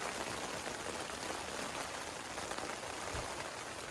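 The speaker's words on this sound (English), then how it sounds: "what else are you gonna expect from a tent in the rain?" Steady rain drums on the fly of a Sea to Summit Telos TR3 tent during a downpour with flash flood warnings, a dense, even hiss of drops close overhead with no voices.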